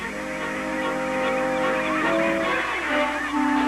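A huge cormorant colony on Peru's Pacific coast fills the air with a dense, continuous chorus of honking, overlapping calls, loud and steady, with no voices.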